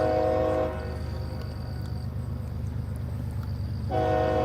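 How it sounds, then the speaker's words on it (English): A CSX locomotive starting up at Dalton, Georgia, a deep, steady diesel rumble throughout, with a loud, sustained horn blast at the start and another returning at the end. "I hear the deep throat of a locomotive starting up, and there is horn"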